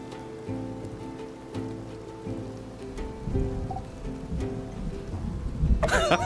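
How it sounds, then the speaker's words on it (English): Rain falls steadily in My Time at Sandrock, a close, even patter on surfaces that grows slightly heavier toward the end, with a brief brighter splash at the close. "This is your first rain in Sandrock, isn't it?"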